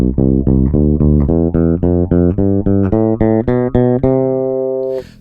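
Epiphone Thunderbird PRO V electric bass, blend shifted toward the bridge pickup, climbs through a quick sequence of plucked notes before a held final tone rings out, close and loud, with no speech.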